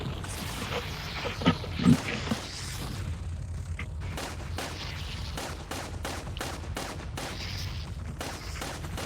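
Gunfire rings out in the VR shooter Resident Evil 4 VR, a burst of loud shots early on followed by a rapid series of sharp, evenly spaced cracks.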